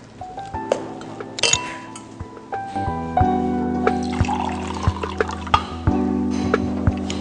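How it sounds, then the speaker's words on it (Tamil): Flour powder for aadi kummayam is stirred into water in a vessel: rapid, ringing clinks of a spoon against the container over soft liquid swishing, with the clinking growing busier as the mixing goes on. "அந்த பவுடரை வந்து தண்ணி ஊற்றி நம்ம கரைச்சிக்கிறோம்"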